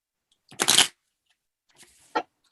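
A deck of playing cards being shuffled during a magic trick, a loud riffle burst followed by a quieter riffle and a short sharp card snap near the end.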